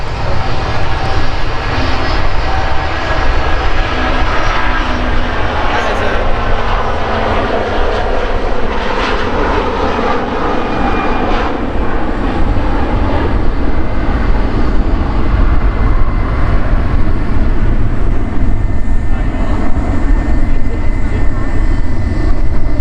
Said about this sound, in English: Just starting its takeoff roll is the Airbus A321 on its way to Atlanta.